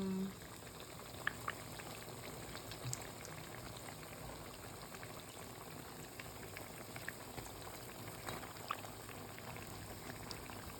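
Baursak dough pieces fry in hot oil, a quiet steady sizzle and bubbling with scattered small pops, continuous throughout and heard without talking.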